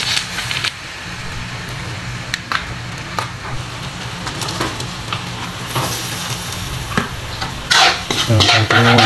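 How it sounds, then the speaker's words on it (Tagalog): Pork adobo with isaw simmers in a Cajun lemon and soy sauce as a spoon stirs the pan, with scraping and clinking of cookware over a low sizzle and a louder clatter near the end. "Halo-halo para ma-mix."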